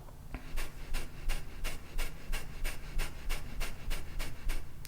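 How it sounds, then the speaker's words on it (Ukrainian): Rapid breathing exercise done as preparation for meditation, with short inhales and emphasized, forceful exhales: about a dozen quick, evenly spaced breath bursts, close and steady, with no talking. "Більший акцент на видих, вдих робиться ніби сам собою."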